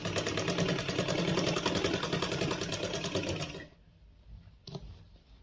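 A foot-operated sewing machine runs fast, stitching a palazzo with a steady, close mechanical whir for several seconds, then stops abruptly, leaving quiet with a few faint clicks.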